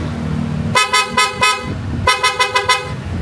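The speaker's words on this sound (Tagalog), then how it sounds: "Yung busina PIAA." Two bursts of a loud, bright aftermarket PIAA horn on a Honda ADV 160 scooter, each a rapid series of four or five short toots, with a brief pause between the bursts; no talking.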